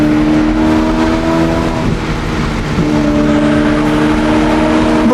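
A Ferrari pulls hard under fast acceleration, its engine droning loud and steady throughout, with a sustained harmonic whine close up from inside the car.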